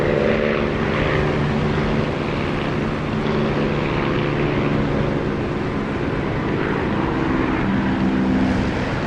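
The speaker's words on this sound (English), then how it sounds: "listen for the engine volume as I land" Steady, loud aircraft engine drone from a plane in the DCS flight simulator during a landing approach, a continuous propeller-like hum with layered tonal harmonics and no voices.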